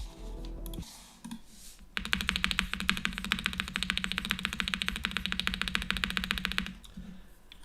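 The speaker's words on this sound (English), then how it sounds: "Like, listen to the spacebar." Mechanical keyboard set to its soft mode, the spacebar tapped rapidly and repeatedly in a fast steady clatter of clicks lasting several seconds, close and fairly loud after a few scattered keystrokes.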